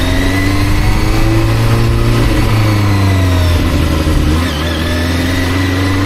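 A VOGE RR660 motorcycle engine runs loud and close with the throttle held steady, giving a constant droning hum that dips slightly near the end.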